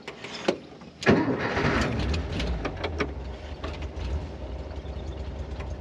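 A 1973 Volkswagen Thing's air-cooled engine cranks briefly and catches with a sharp burst, then settles into a steady, rough, close idle.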